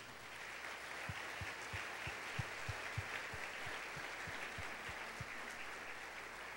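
Church congregation applauding: soft, even clapping from a gathered crowd, heard faintly under a steady background hiss with a few rhythmic low thumps.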